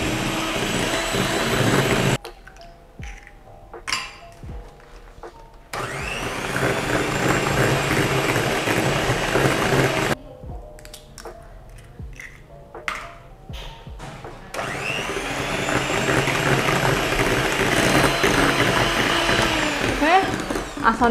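An electric mixer beats eggs for an apple crumble cake batter, whirring loudly in three long bursts. Short quieter pauses between the bursts carry faint clinks and a voice.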